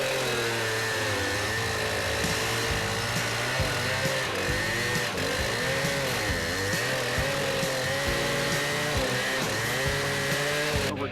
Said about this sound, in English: So when you use this saw or trencher,